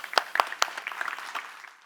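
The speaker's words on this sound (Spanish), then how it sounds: "Un gran aplauso para el ingeniero." Brief, light applause from a conference audience after a speaker is introduced, a few sharp claps followed by a scattered patter that quickly fades out.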